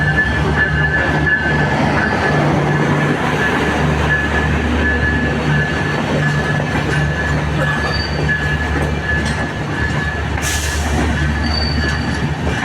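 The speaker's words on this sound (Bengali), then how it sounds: "ট্রেন চলেছে, ট্রেন চলেছে।" A long train rolls past close by near Kamalapur railway station, a loud continuous rumble of wagons with wheel squeal and clatter, plus a brief high screech near the end, with no voices.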